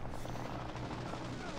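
A helicopter in Call of Duty Mobile gameplay, a dense continuous rotor drone that stays steady and fairly loud for a moment with no speech over it.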